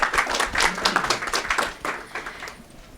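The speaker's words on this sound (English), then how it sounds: "Round of applause." A small audience claps at the start of a talk on AI and medicine at a research institute event, scattered, moderately close hand claps that thin out over a few seconds.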